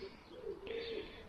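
Soft, low cooing from fantail pigeons in a loft, a short, gentle murmur close by over quiet room noise.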